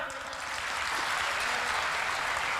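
Audience at a Hindi hasya kavi sammelan comedy poetry show claps in a dense, sustained burst of applause throughout, steady and fairly loud with no pauses.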